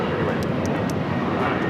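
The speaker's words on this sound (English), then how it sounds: "This is United Airlines 1069 taking off to Chicago on the 737-900ER." A United Airlines Boeing 737-900ER takes off at LAX, its jet engines a broad, steady roar across the whole clip, with a few brief higher chirps overhead.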